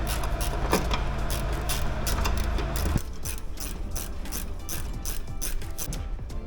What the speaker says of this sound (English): These ones you can't really get the gun on, so you have to do these ones manually. Ratchet spanner, just quickly